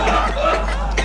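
Coughing from a man in a Hindi comedy scene, a couple of short rough bursts close by, with a chuckle-like edge.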